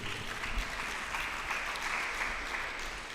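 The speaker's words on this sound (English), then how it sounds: "let's give our guest of honor another round of applause." At a formal book launch, an audience applauds a guest of honor; the clapping is faint and distant, a soft continuous patter without standout claps.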